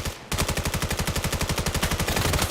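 A submachine gun in the VR shooter VAIL fires a long, rapid, evenly spaced burst of shots, loud and close, starting abruptly after a brief quieter moment.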